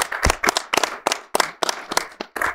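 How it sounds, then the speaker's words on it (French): A small audience at a French sports debate show claps in uneven, clustered bursts of sharp hand claps, close and distinct rather than a dense roar. "Standing ovation, s'il vous plaît. Applaudissements total"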